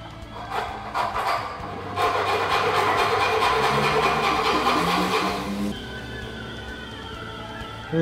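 A hand saw cutting through wood for a carpentry demonstration, a few quick strokes followed by a steady run of close, rasping back-and-forth sawing that stops abruptly, then a quieter pause.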